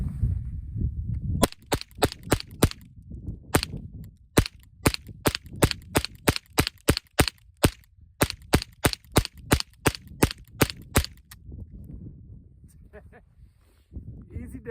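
Rapid semi-automatic shots from a Ruger 10/22 .22LR rifle, two dozen or more sharp cracks in quick uneven strings with brief pauses, loud and close outdoors, with a low rumble of wind between bursts.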